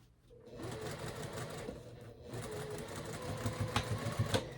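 A sewing machine stitching a summer shirt runs in steady bursts of rapid mechanical whirring and needle clatter, close by and moderately loud, with short pauses between runs.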